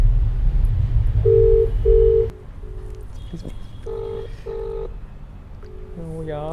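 A phone being dialed gives a string of short, even keypad tones, some single and some in pairs, after a burst of low background noise; a brief ringing tone starts at the end.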